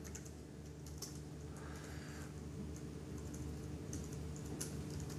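Someone types on a computer keyboard, giving a quiet, continuous stream of light clicking keystrokes over a faint room hum, with no voices.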